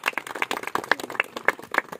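Scattered hand claps from a small gathering at a Shivaji Trail event in Maharashtra, a loose, uneven patter of claps at moderate distance with no voices over them.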